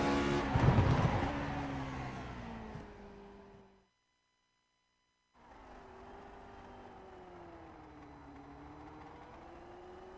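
Race car from the Grand Prix Legends class in the iRacing sim lapping Okayama Circuit: a loud engine note rising and falling through the gears, cutting out to silence for over a second, then droning on steadily.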